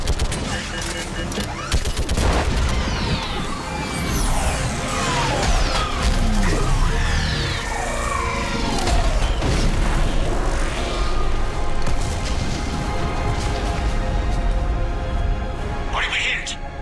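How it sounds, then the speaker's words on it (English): Gunfire and an orbital strike in the video game Mass Effect 3, dense bursts of shooting and booming blasts over a continuous loud rumble, with voices speaking throughout. "I need an orbital strike. We're clear. Fire at will."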